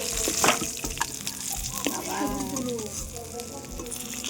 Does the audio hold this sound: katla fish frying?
yes